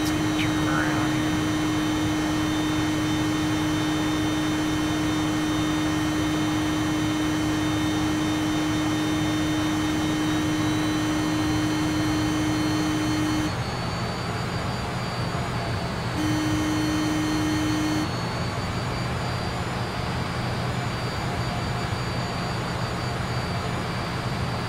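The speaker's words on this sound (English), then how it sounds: "Aircraft climbs." Aircraft engine droning loudly and steadily as the plane climbs, a continuous close powerful roar with a sustained tone that briefly drops out and returns partway through.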